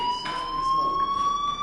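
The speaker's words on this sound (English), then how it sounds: "Hey, do you hear that fire alarm?" Steady electronic fire alarm in the video game Life is Strange, a continuous piercing high tone with faint harmonics sounding without a break throughout, loud and with no talk.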